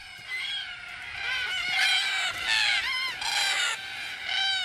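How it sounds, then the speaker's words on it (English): Cockatoos call at an Australian watering hole in the evening, giving a string of loud, harsh, screeching cries that overlap in a raucous chorus from several birds nearby. "The local watering hole is their pickup joint, and the evening quickly turns into a boisterous party."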